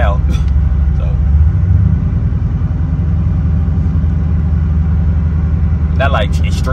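A cammed Chevrolet Impala SS engine rumbles loudly and steadily when cold, a deep throaty drone at low speed in snow, with brief bits of voice at the start and near the end.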